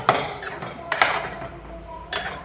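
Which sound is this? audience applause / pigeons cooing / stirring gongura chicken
stirring gongura chicken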